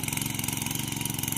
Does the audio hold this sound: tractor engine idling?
yes